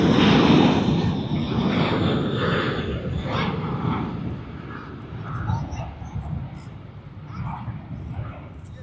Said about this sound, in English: there's Scoot coming on its Boeing 787-9 Dreamliner shortly